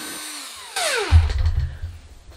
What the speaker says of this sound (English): I'm just going to use my electric drill